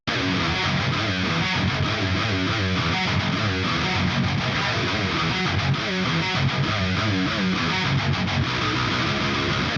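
Heavy distorted electric guitar through a Mixwaves Mike Stringer amp simulator chugs in tight, dense metal riffs, a thick continuous wall of crunchy tone with rhythmic palm-muted bursts.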